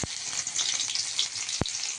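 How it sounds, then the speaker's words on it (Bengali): Chopped onion hits hot oil in a pan, giving a steady, bright hiss of frying with a couple of sharp crackles, close and continuous, with no voices. "এদিকে গরম হয়ে গেছে এখন দিয়ে দেবো একটু পেঁয়াজ কুচি"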